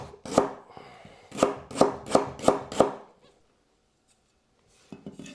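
Knife chopping fresh lemongrass into rings on a board, six crisp, evenly spaced cuts in quick succession, close and distinct, then near silence and a couple of faint taps.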